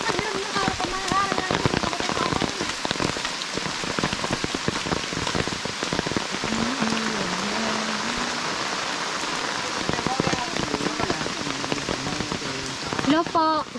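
Rain falling on surfaces on a mountain, a steady, dense patter throughout, with voices talking over it in places.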